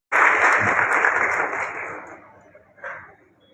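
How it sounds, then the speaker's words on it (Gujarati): Sustained audience applause at a water conference event in Rajula, loud and dense from the start, gradually thinning and fading, with a brief renewed burst near the end. "જબરદસ્ત તાળીઓના ગણગણાટથી આપણે સૌ"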